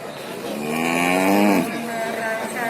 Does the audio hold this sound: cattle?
yes